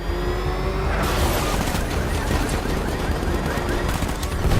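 Heavy gunfire in the video game Batman Arkham Knight, a loud, continuous barrage of rapid shots mixed with vehicle engine noise, close and unbroken throughout.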